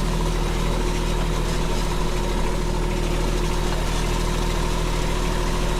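Compact tractor engine running steadily in high gear across bumpy ground, carrying a loader with ballast weight; a constant, loud mid-low drone with a strong tonal hum and faint rattling vibration, no voices.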